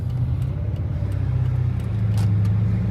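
A big truck passes close by on a wet, rainy road, heard from inside a 2008 Dodge Charger SRT8 as a steady low engine rumble and tire hiss that builds slightly over a few seconds, with no talk.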